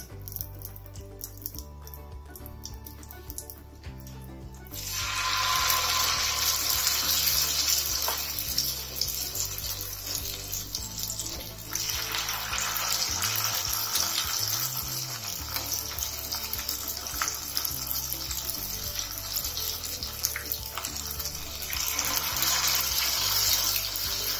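Loud, continuous sizzling and crackling of paneer frying in hot oil starts after a few quiet seconds and keeps going steadily.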